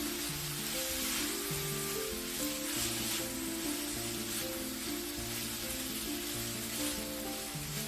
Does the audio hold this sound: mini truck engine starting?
no